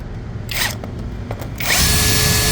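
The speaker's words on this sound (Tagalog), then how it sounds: "Tapos dito ko banda may bubutas." A power drill bores a hole into the storage compartment of a Yamaha Xmax 300 scooter, sounding as a loud, close whine in short bursts that settles into a steady grind near the end.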